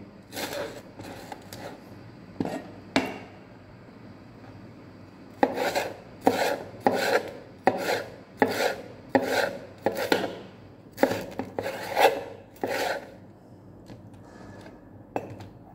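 A knife cuts chicken into long strips on a board in crisp, rapid chopping strokes. They come in short bursts, then a longer run of evenly spaced cuts, close and clear.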